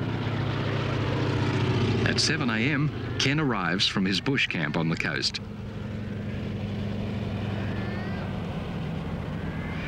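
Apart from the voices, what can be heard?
de Havilland Beaver float plane engine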